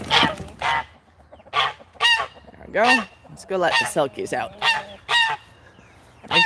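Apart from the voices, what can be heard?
goose honking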